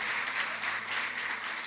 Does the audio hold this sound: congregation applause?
yes